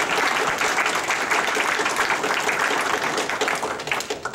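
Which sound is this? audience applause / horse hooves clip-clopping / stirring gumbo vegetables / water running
audience applause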